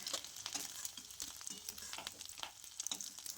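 Eggs frying in hot oil in a pan, giving a soft, steady sizzle with light crackling pops throughout, fairly quiet and heard alone.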